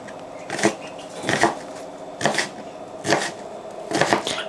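A knife chops onions in half on a kitchen counter with five sharp, evenly spaced cuts, each a crisp thud on the board, close and clear, with no talking.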